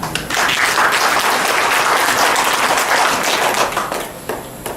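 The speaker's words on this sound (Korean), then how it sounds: "감사의 박수를 부탁드립니다" A crowd at an association's annual general meeting claps steadily in dense, loud applause that fades toward the end, with no one speaking over it.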